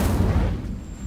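A fire spell cast in Hogwarts Legacy bursts out as a loud, low booming whoosh at close range, then rumbles away over about a second with no talk.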